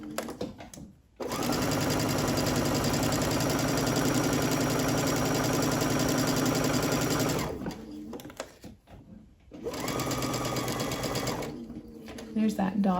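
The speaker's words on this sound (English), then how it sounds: "And I will back stitch to that 1/4 inch dot." A domestic sewing machine back stitching along quilt panel edges, running steadily and loud for several seconds, pausing briefly, then humming again in a second burst with faint sounds around it.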